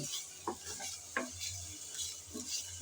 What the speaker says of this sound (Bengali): কিছুক্ষণ পরে এসে ঢাকনা উল্টিয়ে একটু নেড়ে চেড়ে নিচ্ছি